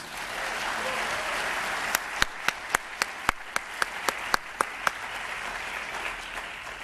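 Audience applause at a scholarship event: a steady wash of clapping throughout, with a run of sharp, evenly spaced individual claps standing out close by through the middle before the crowd sound carries on.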